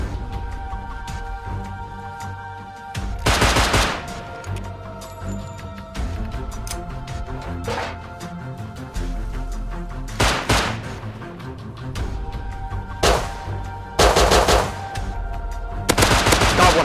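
Revolver gunshots in the survival video game Rust, fired in sharp bursts of several loud, close cracks that recur at intervals through the stretch, with background game ambience between them.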